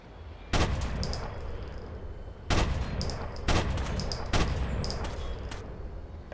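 Gunfire in the Rainbow Six Vegas Trainyard level: several sharp, loud shots and short bursts with echoing tails, spaced irregularly over a steady background rumble, no talk.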